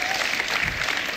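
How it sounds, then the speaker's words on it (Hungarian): Studio audience on a Hungarian TV show claps in a dense, steady burst of applause, loud and close, with no talk over it. "Tapsolt!"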